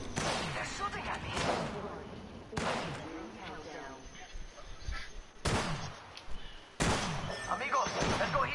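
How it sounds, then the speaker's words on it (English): Gunfire in an online shooter video game, repeated bursts of shots cutting in and out over several seconds amid background game noise, with players talking over it. "They're shooting at me."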